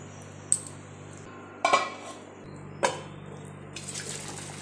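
Pieces of eggplant and hilsa fish go into a pot of simmering Bengali curry: three sharp metallic clinks with small splashes, spaced apart, then a soft bubbling hiss rising near the end, with no talk.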